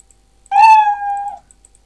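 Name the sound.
cat meow sound of a Scratch sprite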